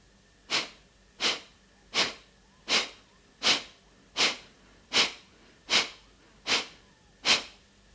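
Ten rapid, forceful nasal exhalations of Breath of Fire (Kapalabhati) belly-pumping breathing come close and loud in an even rhythm, each a sharp puff followed by a brief pause, with no talk.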